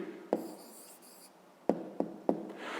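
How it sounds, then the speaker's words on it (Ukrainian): A pen writes out the answer to a fifth-grade maths exercise, giving a few quiet, short scratching strokes and light taps on paper, spaced apart, with no voice. "Пишемо відповідь."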